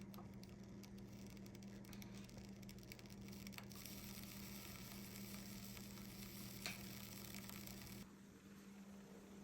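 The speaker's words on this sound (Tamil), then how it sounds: "இப்போ தண்ணி நல்லா கொதிக்குது" Salted, oiled water heating in a pot for penne pasta, a quiet steady bubbling and faint sizzle with a low hum underneath, continuous until the sound drops away abruptly near the end.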